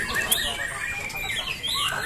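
A white-rumped shama (murai batu) songbird sings at a bird-singing contest, giving fast, bright, warbling phrases with sharp whistles. Crowd chatter and voices run underneath.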